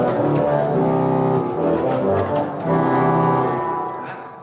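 Reedy pipe organ pedal stops, a 16-foot fagot with an 8-foot Schalmei, sounding sustained low buzzing notes that shift a few times and fill a reverberant space before fading out.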